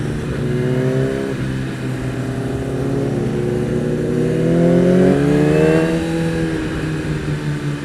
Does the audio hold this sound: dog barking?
no